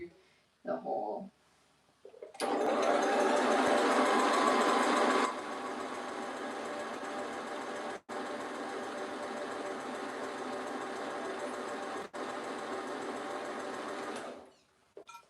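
A sewing machine stitches in a long steady run, a close fast mechanical whirr with brief pauses, preceded by a few short handling noises and brief talk.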